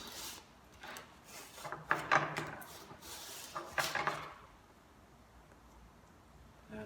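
A piece of wood is rubbed back and forth on 80 grit sandpaper laid on a table, making several quick rasping strokes that are fairly soft and close, then it falls quiet.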